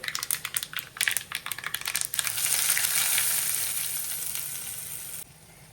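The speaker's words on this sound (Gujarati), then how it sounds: "અને જો હવે મસ્ત આપણે વઘારી નાખીએ" Rapid crackling pops burst out as curry leaves, asafoetida and tempering spices hit hot oil for a chutney, then settle into a loud, continuous sizzle that fades slightly before cutting off.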